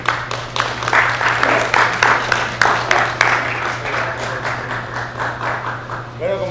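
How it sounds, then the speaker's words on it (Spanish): A small lecture audience at a talk on the geological heritage of the Río Claro canyon reserve in Antioquia claps with fairly sparse, distinct strikes over a steady electrical hum, tapering off after several seconds. "Bueno, aplausos."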